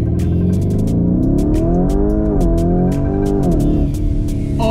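A Lamborghini Urus SUV accelerating hard, its engine revving up loudly through rising gears with shifts between them, close and continuous with no voices.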